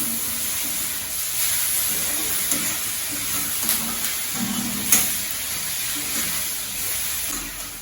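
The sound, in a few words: sautéing in a pan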